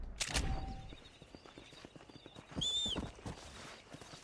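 A horse ridden in the Red Dead Redemption video game: rhythmic clip-clop hoofbeats at a steady gait, with a brief whinny partway through and some louder rustling bursts, close and clear.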